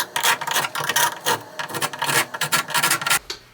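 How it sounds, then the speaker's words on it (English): Putty knives scrape paint off a plaster wall around a widened crack, making repeated close rasping strokes in a quick, steady rhythm with no talking. "you saw me scraping off paint with the knives"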